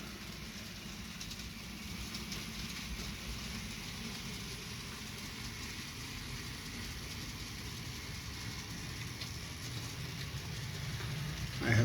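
A Dapol Class 33 model locomotive runs steadily around a model railway layout, giving a continuous low rumbling whir that stays even and fairly quiet throughout, with a slight rise at the very end.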